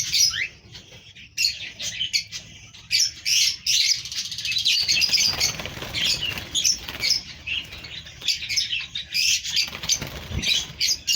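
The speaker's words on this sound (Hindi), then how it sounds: "और ये देखें, कॉकटेल का जोड़ा कितने शौक से ये खा रहे हैं।" A pair of cockatiels chirp and tweet in quick, busy bursts while eating soft food, with light pecking and shuffling sounds close by, no talking.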